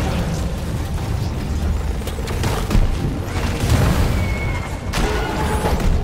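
Firecracker explosive in Deep Rock Galactic going off as a dense string of crackling bangs and booms over a constant rumbling background, loud and sustained with no talk.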